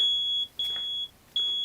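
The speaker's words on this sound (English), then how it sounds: "The smoke detector alarm in my house was going off" A home smoke detector alarm going off: a piercing high electronic beep repeated in long tones with short gaps, clear and fairly close, with no voices.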